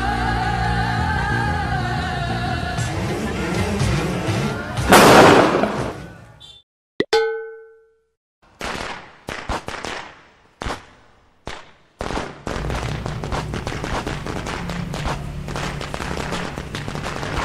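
Diwali firecrackers go off in a neighbourhood in Hosur: a loud burst, then several sharp separate bangs with short silences between them, and noisy chatter around them.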